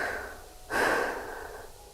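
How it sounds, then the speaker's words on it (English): A single deep breath draws in, a rushing airy inhale that swells suddenly, close to the microphone, then fades slowly. "Take a deep breath"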